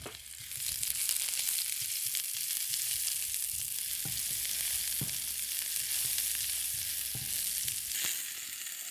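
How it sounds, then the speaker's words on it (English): Ginger and onion fry in a wok with a steady, close sizzle, and a few soft stirring knocks sound through it. "I'm going to using the same wok. I put some ginger in it and onion."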